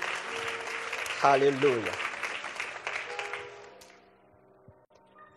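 A church congregation applauds during a sermon, a steady wash of clapping with a voice calling out over it, then tapering off to near quiet by the end.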